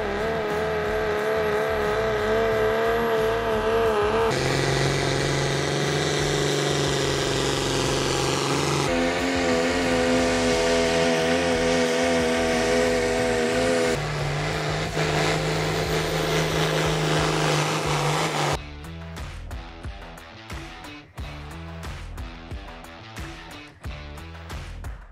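Hot rod diesel four-wheel-drive pulling trucks at a pulling event roar loudly and continuously, their engine pitch holding and shifting in long stretches before dropping to a rougher, choppier rumble near the end.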